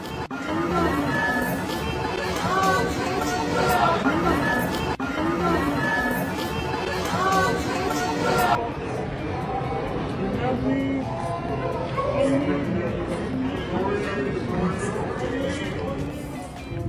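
Dense crowd chatter and babble surrounds two actors in a busy public spot, with many overlapping voices at close and middle distance and a steady level throughout; the backdrop thins slightly partway through.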